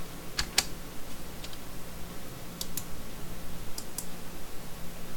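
Mouse clicks and keyboard keys add subnodes in a note-taking tree during an ethical hacking session, a few quick clustered clicks spaced across a quiet room hum, close and fairly soft, without talking.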